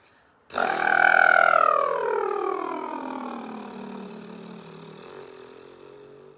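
A buzzing lip trill starts abruptly, then glides smoothly from a high pitch down to a low one over several seconds, close and steady.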